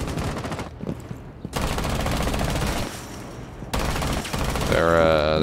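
Rapid video game gunfire from cheating players with no recoil and hip-fire aimbot, loud dense bursts of automatic shots in long strings with brief gaps between them.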